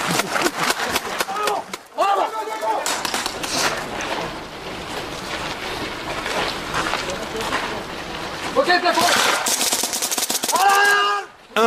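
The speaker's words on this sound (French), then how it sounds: "Les balles laissent une marque de peinture verte et font très mal." Paintball guns fire in rapid bursts during a commando paratrooper training exercise at a house, loud cracking volleys with brief pauses while someone talks over them.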